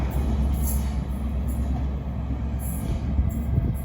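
A passenger train with power car 43239 at the rear rumbles through Cheltenham Spa station, a steady loud low drone with faint higher hiss and squeal bursts, no voices.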